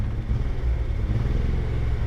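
Datsun 280Z engine running rough and close, a steady low rumbling idle that sounds ready to die, with no talking.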